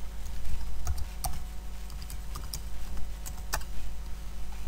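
Someone types a password on a computer keyboard, irregular crisp clicks close up with short pauses between bursts, over low steady background hum.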